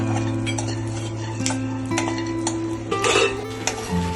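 Pumpkin seeds and cashews roasting in a hot kadhai over a very low flame give sparse crackles and pops, with occasional clinks over a steady background hum.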